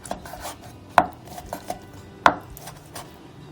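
Knife chopping vegetables finely on a cutting board for a Korean squid and vegetable pancake, a quick series of light taps with two sharper, louder knocks, close up and with no talking.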